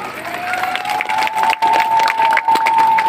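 A crowd at an outdoor village development programme in Odisha claps and cheers in a dense, continuous wash of sound, with a steady tone running underneath.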